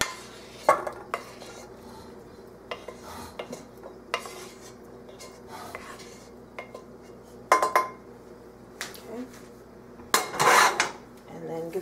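Celery being mixed into herb butter stuffing in a bowl, heard as quiet, irregular clinks and scrapes of a utensil against the dish, with soft handling sounds between them.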